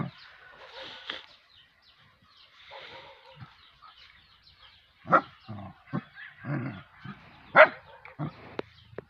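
Several short barks from a dog, some way off, scattered over the second half amid quiet outdoor background.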